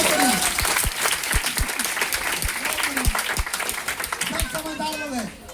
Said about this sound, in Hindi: जोरदार ताली होना चाहिए, बहुत बढ़िया।